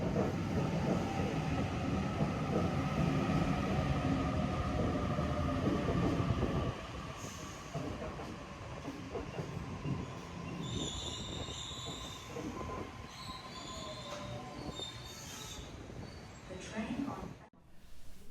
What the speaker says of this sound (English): Here is a Waratah train coming into platform 2.